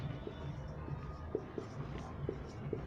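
Strokes on a board during a Hindi grammar class: light, irregular taps and scratches against a steady background hum.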